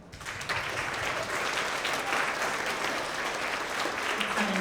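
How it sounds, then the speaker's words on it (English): Sustained audience applause for school math award winners, a dense, even wash of many hands clapping that swells in quickly and holds steady at a moderate distance. "Let's have another continued round of applause for all of our math award winners"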